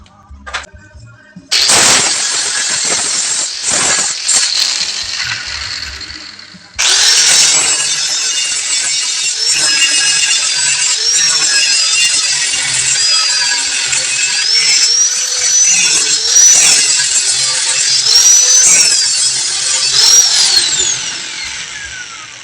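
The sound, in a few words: angle grinder with flap disc grinding welds on tubular steel window grills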